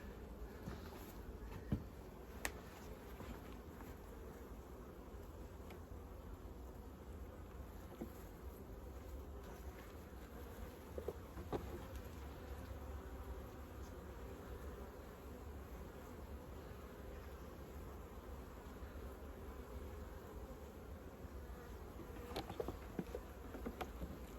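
Honeybees buzz around a rescued queen as a handful of bees, a soft, steady, continuous hum with a few faint taps and knocks throughout, quiet and without talk.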